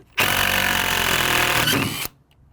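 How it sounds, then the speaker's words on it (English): A power drill drives a screw into a wooden door jamb during a front door installation in one loud, steady whir of about two seconds that stops abruptly, heard up close. "when you drive the screw, it'll pull it in tighter"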